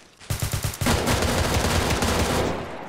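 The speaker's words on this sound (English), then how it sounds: "Shooting through the building." Gunfire through a building in ArmA 3: a rapid burst of several distinct automatic shots, then sustained, dense, loud firing that continues and tapers off near the end.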